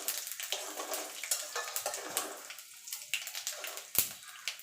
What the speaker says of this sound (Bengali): জিরে ভেজে নেব।